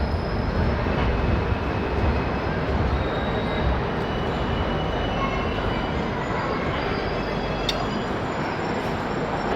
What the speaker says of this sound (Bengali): ট্রেন এসে পৌঁছালো সুলতানগঞ্জ স্টেশন